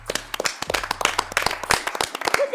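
A few people clap in short, uneven bursts of sharp hand claps, close and fairly loud. Scattered talk and laughter mix in with the clapping.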